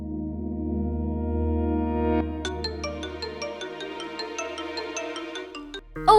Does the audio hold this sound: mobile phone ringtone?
yes